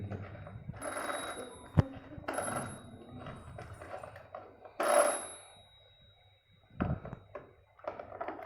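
A kids' plastic toy telephone gives off chirpy ringing tones and clicking dial sounds in short bursts, with quiet handling noise between them.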